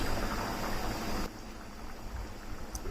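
A lidded pot of tender bottle gourd cooking with fish head, simmering toward a boil with a steady close bubbling hiss that drops to a softer, quieter simmer partway through.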